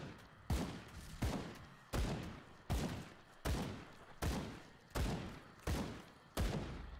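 A series of heavy booming video game explosions from Grim Dawn repeats at a steady, even rhythm, each a sharp thump followed by a rumbling decay.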